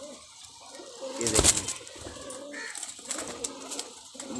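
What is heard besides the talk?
Teddy pigeons cooing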